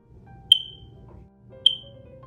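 A smoke detector gives two short, sharp high chirps about a second apart, signaling a low battery, loud and close over a faint low hum, with no speech.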